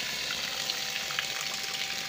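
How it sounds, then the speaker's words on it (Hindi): A DC room cooler water pump motor runs while pumping water, giving a steady rushing, gushing hiss with no speech. "मोटर हमारा चल रहा है और पानी की प्रेशर चेक करें"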